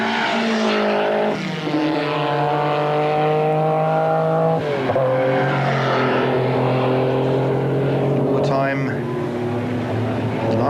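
Porsche 911 Turbo GT race cars, including a privateer entry, roar loudly and continuously around the Paul Ricard circuit in a 1994 BPR GT endurance race, engine notes rising and shifting as they pass, with commentary over the top.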